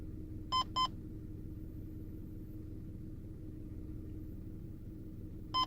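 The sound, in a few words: radar detector K-band alert beeps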